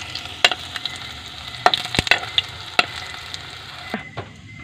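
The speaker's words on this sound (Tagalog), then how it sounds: "Mainit na, ilagay na ang bawang" Garlic sizzles steadily in hot oil in a pan, a close crackling hiss broken by sharp scraping clicks from stirring, with no talking.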